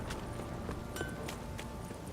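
Roach, the horse in the Witcher 3 video game, with quick rhythmic hoofbeats clip-clopping at a steady gallop beneath a busy game soundscape.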